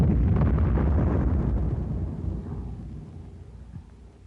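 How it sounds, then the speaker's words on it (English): An 81 mm heavy high explosive mortar shell with a delay action fuse bursts on a command post, a loud, deep rumbling blast that slowly fades away over several seconds, with no voices. "a swell target for the 81 millimeter heavy high explosive shell"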